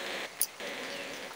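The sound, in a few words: rain falling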